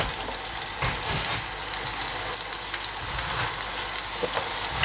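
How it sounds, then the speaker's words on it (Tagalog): Lumpia fry in a pan with a generous amount of hot oil, giving a constant bright crackling sizzle with small pops throughout, close and steady with no voices. "Ready na tayo magprito."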